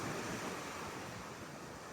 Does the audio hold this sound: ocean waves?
yes